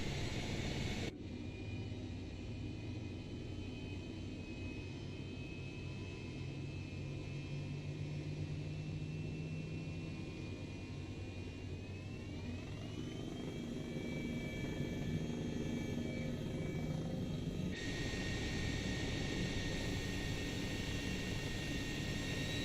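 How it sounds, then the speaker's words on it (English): A helicopter droning steadily and fairly faintly for over twenty seconds, a continuous engine hum with a whining tone that shifts pitch partway through, no voices. "Let's see what this helicopter's all about today."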